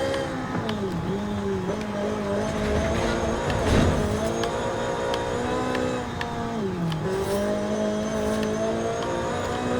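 A 1969 Ferrari Dino 246 GT with a race tune and drag tires in Forza Horizon 5 revs loudly, its engine note rising and dropping through repeated gear changes with a faint voice underneath.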